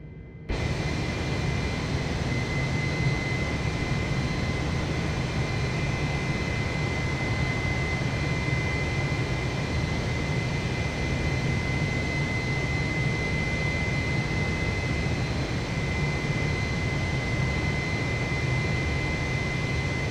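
Inside a Volaris Airbus A320neo cruising between Puerto Escondido and Guadalajara, a constant loud engine and airflow roar fills the cabin without change.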